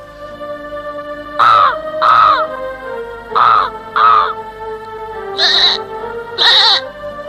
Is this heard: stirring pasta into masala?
no